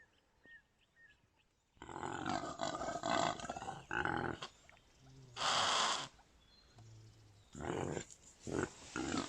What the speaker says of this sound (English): that's the sound of an impala ram rutting